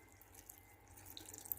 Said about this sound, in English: So I'm going to add little bit of water